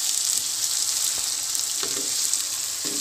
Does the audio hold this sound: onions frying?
yes